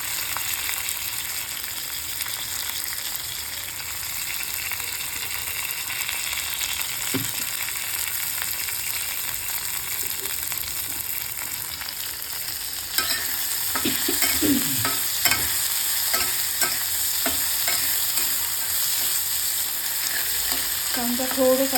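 Thinly sliced onion for an okra dish sautéing in a pan, with a steady, close sizzle that lasts throughout and grows slightly louder partway, along with occasional stirring scrapes and no talking.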